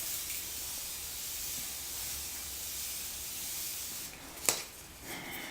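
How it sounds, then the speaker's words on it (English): Morphe Prep Set setting spray is misted onto a face in one continuous, close hiss lasting about four seconds, then a brief tap and a short softer puff. "I'm just gonna spray my face with a little bit of Morphe, with a little bit of the Morphe Prep Set spray"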